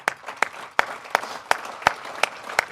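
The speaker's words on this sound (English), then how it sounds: "let's give him a round of applause." Sparse claps from a small Hall of Fame induction audience ring out one at a time in a slow, uneven rhythm, each sharp and distinct, with faint murmuring between them.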